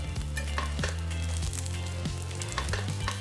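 Vegan dongurang patties frying in a pan give a dense, steady sizzle, close and fairly loud, with occasional faint clinks and spatters throughout.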